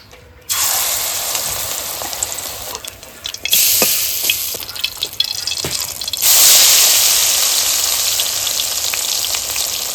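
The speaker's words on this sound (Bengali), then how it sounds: "এইবার এই কুমড়োর পাতাটা আমি এই ডালের মধ্যে বেশ চুবিয়ে নিয়ে ভালো করে মেখে তেলে ছেড়ে দেবো।" Pumpkin leaves coated in lentil batter hit hot oil, and a loud, bright sizzle erupts at once. It surges again each time another battered leaf goes in, then stays as a steady crackling fry.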